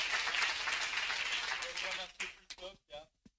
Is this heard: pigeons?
no